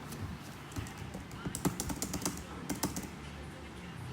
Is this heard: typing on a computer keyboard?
yes